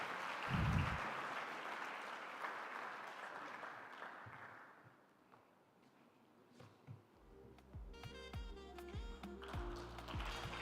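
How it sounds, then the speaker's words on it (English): An audience at a presidential inauguration claps in a broad, moderate wave that gradually thins out, and then music with a steady beat starts up as the applause fades. "Give them a round of applause"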